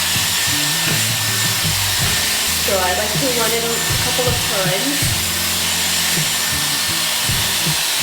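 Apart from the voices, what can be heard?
Dyson hair dryer blowing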